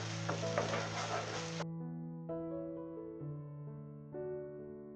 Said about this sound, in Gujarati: મસાલા પેસ્ટ ડુંગળી ટમેટા સાથે સારી રીતે મિક્સ કરી દઈશું.